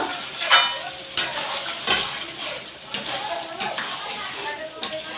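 Mutton curry sizzles in a pot while being stirred, with intermittent scraping and clinks of the spoon against the metal over a soft frying hiss.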